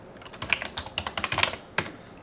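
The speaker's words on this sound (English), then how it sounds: "I'm typing in my email address" Fingers type an email address on a computer keyboard, a quick close flurry of key clicks followed by a short pause and one last tap, with no voice.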